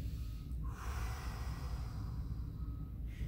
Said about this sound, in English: and just breathe from here